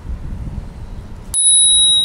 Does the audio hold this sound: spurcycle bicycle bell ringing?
yes